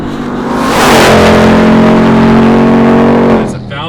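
A Hennessey Mammoth 1000 TRX pickup truck with a 1,000 horsepower engine accelerates hard nearby, its loud rising roar swelling and holding steady for a few seconds before dropping off sharply.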